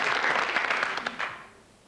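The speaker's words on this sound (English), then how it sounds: "Ladies and gentlemen, a big clap." A studio audience on a snooker quiz game show applauds, a dense, fairly close wash of clapping that holds steady for over a second and then fades away.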